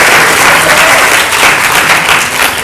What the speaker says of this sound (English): give a round of applause to Uncle Vijaya